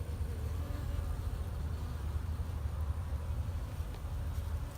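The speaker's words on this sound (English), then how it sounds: "It's a good, nice, mature sized colony of bees." A dense, steady buzz hums without pause from a mature honeybee colony inside a wall, close by, with no voices over it.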